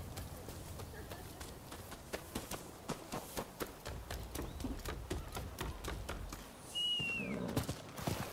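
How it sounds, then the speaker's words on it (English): Horse hooves in the video game Rise of the Ronin clip-clop in an even, moderately close walking rhythm over soft ambient game sound, with a brief chirp near the end and a voice talking over it. "Come now, horsey."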